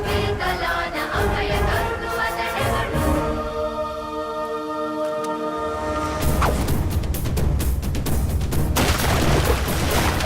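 A film gunshot boom rings out amid a dense, loud dramatic soundtrack, with sharp impacts and a swelling whooshing burst near the end.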